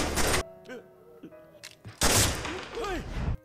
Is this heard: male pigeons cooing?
no